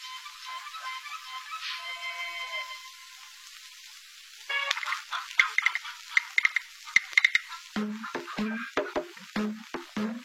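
Cooking in a film scene, with a quiet tonal hum and faint chime early on, then a burst of ladle stirring and sizzling frying with sharp clinks against the pan, dense and close.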